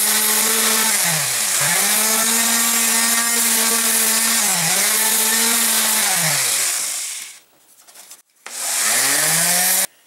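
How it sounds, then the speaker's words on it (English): A random orbit sander works over a 3D-printed yoke elbow, smoothing bumps with a loud, close, high whirring drone whose pitch dips and recovers under pressure, then briefly cuts out before starting up again. "I'm going to do that with my random orbit sander."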